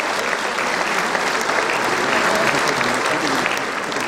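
An audience at an octet concert applauds a singer, steady dense clapping sustained throughout without letup.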